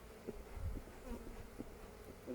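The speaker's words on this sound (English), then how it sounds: "there's a lot of bees in here" A faint, low buzzing hum of many bees in a hive during an inspection, soft and continuous with small fluctuations, no voices.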